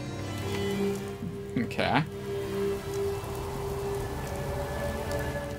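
Misty light rain from a ModBox weather mod in a video game, a steady soft patter of rain throughout with a brief spoken word in the middle.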